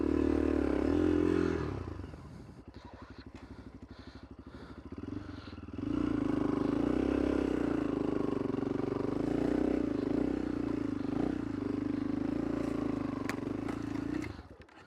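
A Kovi ADT 300 enduro motorcycle ridden offroad, its engine droning steadily at close range and dipping to a lower idle-like hum before climbing back, with clattering and scraping over rough ground.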